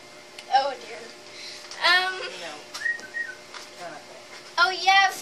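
A person whistles a few short rising-and-falling tones, like a catcall, with pauses between bursts and faint background noise.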